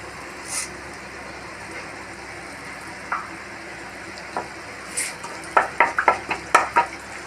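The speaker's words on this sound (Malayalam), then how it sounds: "കഴിഞ്ഞിട്ട് അതിലെ കടുക് പൊട്ടിക്കണം." Hot coconut oil sizzles softly, then mustard seeds begin popping in a quick cluster of sharp crackles near the end.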